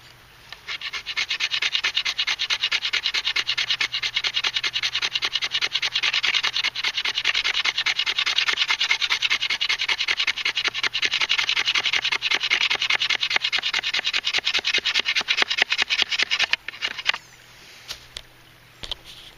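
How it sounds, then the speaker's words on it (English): Hand axe smoothing the wooden limb of a stickbow, a continuous fast scraping rasp of rapid strokes for about sixteen seconds, close and fairly loud, ending with a few scattered scrapes. "I could also smooth with a hand axe, so it kind of doubles as a smoother planer too"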